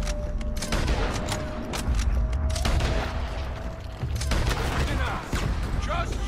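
Sustained gunfire in the video game Red Dead Redemption 2 during a fort battle: rapid overlapping shots and booms, dense and loud throughout, with shouted voices mixed in.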